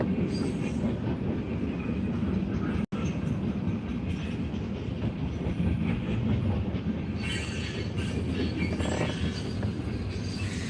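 A long CSX freight train rumbles steadily past at close range in Oxford, Ohio, with a dense low roar, rattling cars and faint metallic squeals throughout, no voices.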